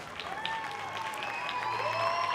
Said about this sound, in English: The entire team coming over to clap for their supporters